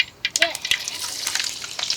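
Garlic crackles and spits in hot oil while beef brain masala is cooked, with sharp irregular pops over a close, steady frying hiss.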